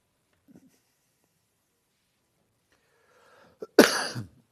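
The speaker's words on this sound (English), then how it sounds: "Excuse me, I've got a little bit of a cough this morning." After near silence, a single sharp, close cough bursts out loudly, preceded by a faint breath and throat sound.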